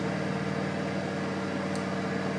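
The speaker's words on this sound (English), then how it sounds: "2 minutes in the microwave for my beauty sponge" A microwave oven running while heating a beauty sponge, giving a steady, even mechanical hum with a low drone throughout and no other sounds.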